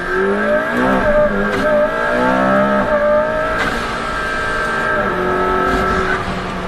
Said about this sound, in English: The wastegate noise is awesome. It's got a great shriek to it.